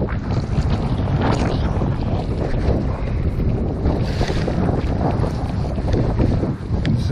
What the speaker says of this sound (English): See, the wind has definitely picked up today.